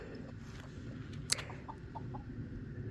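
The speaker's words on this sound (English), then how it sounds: "Look at all the chickens. They're just loving it." Chickens eating bird seed give faint, soft clucks in short scattered bursts, with one sharp brief click and a quiet background.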